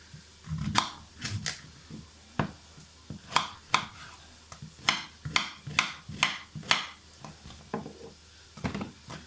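A knife chopping courgettes on a cutting board, a run of crisp, irregular thuds and taps, some in quick pairs, close and fairly clear, with no speech over them.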